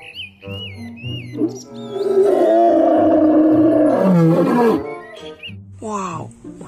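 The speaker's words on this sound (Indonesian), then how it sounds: "Wow, ini hewan singa" A lion roars loudly in a long sustained rumbling bellow lasting a couple of seconds, framed by whistly synthetic tones and a cartoonish voice before and after.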